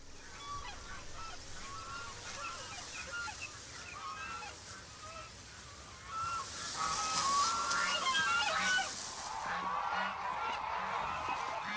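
Many geese honk on a breeding farm, a dense, continuous chorus of overlapping calls from a large flock that swells louder toward the end.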